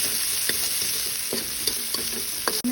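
Garlic sautéing in a pan with reduced oil, a constant bright sizzle under a few scattered spatula knocks and stirring scrapes, close and fairly loud, with no talking.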